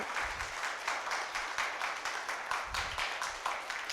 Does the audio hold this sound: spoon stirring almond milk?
no